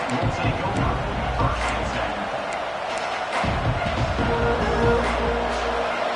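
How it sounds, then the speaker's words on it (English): A large stadium crowd at a Clemson vs Notre Dame football game roars continuously, with loud cheering swelling and a voice talking over the din. "this crowd is fired up. Listen to this noise here."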